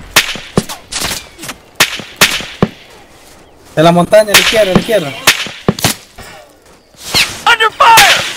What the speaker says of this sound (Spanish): Disparo, disparo.